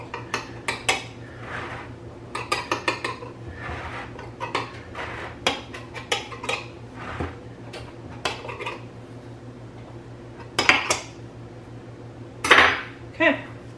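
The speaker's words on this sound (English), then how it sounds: "I'm just gonna cut the edges off with my knife, make it nice and neat." A knife trimming the crust edges of a rhubarb pie in a pie plate, giving a long run of light metallic taps and clinks against the plate, irregular and close, with a few louder knocks near the end.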